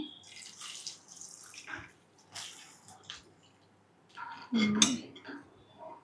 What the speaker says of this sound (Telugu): సో ఇప్పుడు మనం 1 కప్ వాటర్ పోసుకోవాలి ఇందులో